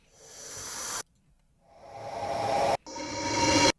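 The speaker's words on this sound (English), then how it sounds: "I use the same risers." Noise risers from an EDM build-up sweep upward three times, each a hissing white-noise swell that grows louder and brighter before cutting off abruptly, with short silent gaps between them.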